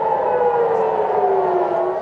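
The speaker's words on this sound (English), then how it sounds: "Sirens go off, a regular occurrence in the city." A civil defense siren wails steadily in the distance, a long sustained tone slowly sliding downward in pitch.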